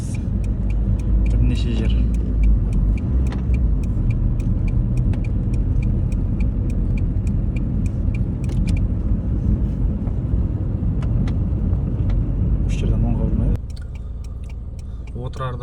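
A car drives a rough rural road near Shauildir in Otyrar district, heading toward the Turkistan highway. A loud, constant engine and road rumble fills the cabin while someone talks over it, and the noise drops slightly near the end.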